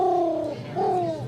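Pigeons on an island at an outdoor bowls final, giving two soft, close coos, the first sustained then falling, the second rising and gliding down, with little else around.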